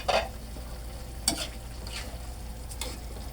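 Chicken liver adobo bubbles and simmers in a covered pan, giving a steady soft sizzle with occasional brighter pops and spatters at a moderate, close distance.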